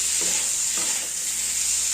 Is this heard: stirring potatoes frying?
yes